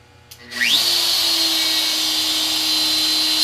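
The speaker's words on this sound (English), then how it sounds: "We're going to turn the spindle on." An X-Carve CNC spindle whirs up from a brief click into a steady, loud high-pitched whine that holds evenly, carving a Christmas door hanger, with no one talking.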